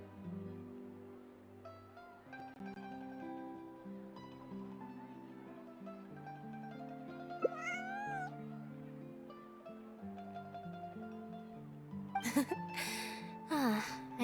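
A cute kitty in the game Genshin Impact meows a few times near the end, short high bright calls over a steady musical background, with a brief cry in the middle as well.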